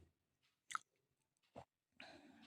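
Small fried shrimp are eaten with milk tea, giving a few faint, soft crunching bites spaced apart in near-silence, with no talk.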